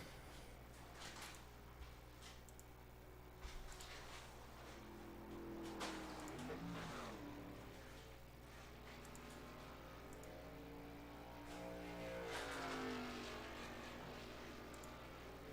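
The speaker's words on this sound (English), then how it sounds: "Coming across the start-finish line, you hear all the feather in the throttle." Virtual race cars at Phoenix crossing the start-finish line, engines droning and rising as drivers feather the throttle, several pitch sweeps overlapping at moderate distance over a low steady hum.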